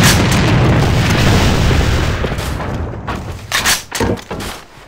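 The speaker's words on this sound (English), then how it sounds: "Бросаю гранату." Grenade blast in the shooter game Alliance of Valiant Arms: a loud, close boom rolls and rumbles for a couple of seconds, then thins into decaying debris bursts and scattered thuds before fading out.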